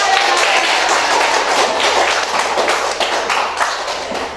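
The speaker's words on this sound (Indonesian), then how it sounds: "kalian tepuk tangan buat kalian semua." Students clap together in a classroom icebreaker, a loud, close burst of many hands with sharp individual claps scattered through it, slowly thinning toward the end.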